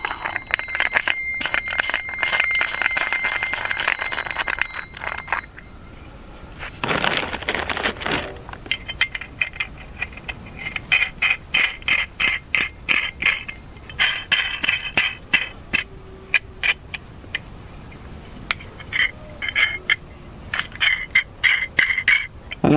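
Metal nuts and bolts clink and rattle while extension track is fitted, a steady run of close, sharp taps and chinks with brief pauses between them, and a short scraping burst near the start.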